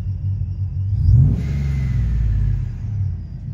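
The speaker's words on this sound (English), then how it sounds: "that's just the best sounding blow off valve I ever damn heard right there" A supercharged TorqStorm Ram truck revs with a deep engine rumble, and a rising whine climbs as boost builds before a sharp blow-off valve release. The engine then settles into a steady idle.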